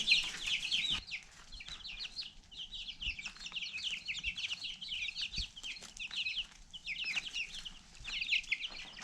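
Several chickens clucking and squawking close by, with busy overlapping calls and a few soft thumps, no talking.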